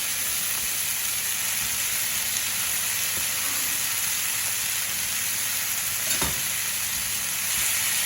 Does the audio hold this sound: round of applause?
no